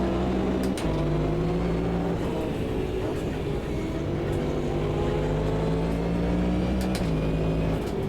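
Race cars in the Automobilista 2 racing game, including a Porsche, engine roaring steadily at high revs with a couple of quick gear shifts and pitch drops, loud and continuous throughout.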